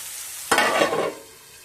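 Chopped onions and green chillies with salt are stirred in a hot pan, giving one short burst of sizzling and scraping that fades after about a second.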